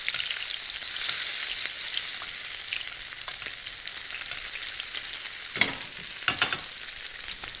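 Salmon fillet frying in an oiled pan for crispy skin, with a steady close sizzle and crackle, plus a few sharper spits and clinks as hot oil is spooned over the fish.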